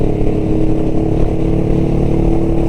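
A Honda Rebel 500 motorcycle engine drones steadily at low pitch while riding on the interstate, a constant close rumble with no talking.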